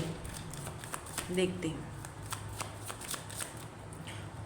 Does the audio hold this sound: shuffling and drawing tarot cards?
yes